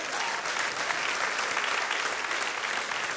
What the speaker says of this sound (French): On peut applaudir fort.